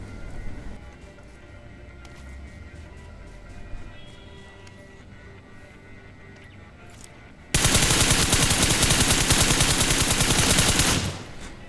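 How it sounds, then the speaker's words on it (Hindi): Rapid automatic gunfire from a weapon in the PUBG video game, a dense, loud burst of shots lasting a few seconds after a stretch of quiet game ambience. "तो अब मन ला फिर से दिखाबो अपन गन के पावर"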